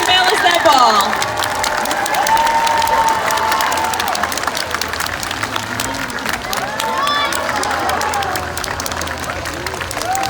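Crowd at a Long Island aquarium sea lion show applauding and cheering for Bunker the sea lion balancing a ball, steady loud clapping with children's shouts and whistles throughout.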